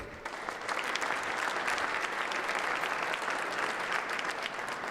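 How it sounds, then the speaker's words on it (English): Audience at a Black Excellence on the Hill event gives a steady, full round of applause for legislative leaders, dense clapping holding even throughout with no voices over it. "let's give one more round of applause for our legislative leaders who spoke today"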